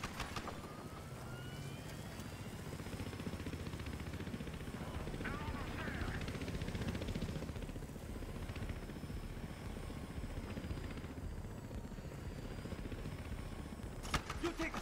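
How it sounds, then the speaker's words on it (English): A transport helicopter in Battlefield Hardline drones with a steady, dense rotor-and-engine roar that holds throughout, a voice shouting briefly over it. "That's a transport chopper"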